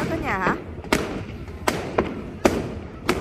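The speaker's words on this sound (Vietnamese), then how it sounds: "họ đốt pháo ngoài đường như vậy đó cả nhà" Firecrackers set off in the street on New Year's Eve in the Netherlands, as a string of sharp, loud bangs spaced irregularly about every half second, with a short burst of talk at the start.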